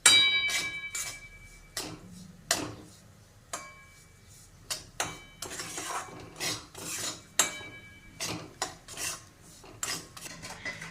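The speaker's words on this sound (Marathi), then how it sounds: "मिक्स करून घ्यायचं आहे रवा चांगला भाजून द्यायचा आहे" Semolina (rava) dry-roasting in a pan for upma is stirred with a spoon, producing a rhythmic series of sharp metallic scrapes and clinks at regular intervals, moderately close, with no talking.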